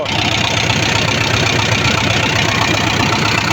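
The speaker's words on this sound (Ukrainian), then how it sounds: "Ляпотить як настоящий трактор." A YuMZ tractor fitted with an SMD diesel engine and homemade exhaust idles steadily up close, a rough, chugging diesel putter with a rapid, even knock that holds constant throughout.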